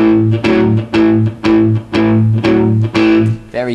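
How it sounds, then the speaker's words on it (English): Electric guitar power chords in A, palm-muted and chugging in a steady rhythm of short, punchy, distorted strums with brief gaps between them, loud and close with no talking. "you might have noticed I'm using palm muting"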